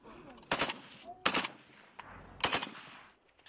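A machine gun fires three loud, close bursts of rapid shots with short pauses between them during military shooting practice in the Donbas.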